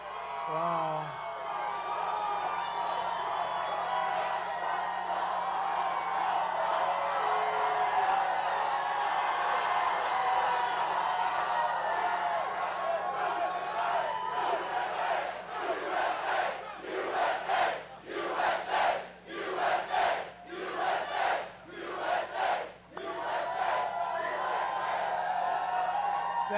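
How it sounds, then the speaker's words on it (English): A large crowd of thousands at a Donald Trump campaign rally in North Carolina roars with sustained cheering and whooping, then breaks into rhythmic bursts of chanting and yells toward the end, loud and close. "Oh, this is a big crowd."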